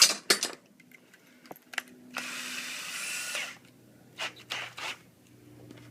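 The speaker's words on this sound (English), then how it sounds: "We're just going to drill." A power drill whirs briefly in one steady burst, drilling particle board for a drawer repair, surrounded by clicks, taps and handling noises of tools on a work surface.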